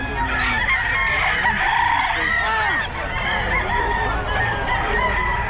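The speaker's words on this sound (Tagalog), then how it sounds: "Ito, ang dami manok oh." A dense chorus of chickens clucking continuously with roosters crowing over it, loud and close, like a crowded poultry pen at a pet market in Bocaue.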